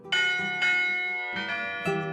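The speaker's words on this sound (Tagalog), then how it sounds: "ang mga kampana ng simbahan" Antique church bells in a provincial church in Iloilo or Capiz ring out in four loud, resonant strikes about half a second apart, each leaving a long shimmering hum of overtones that carries into the next.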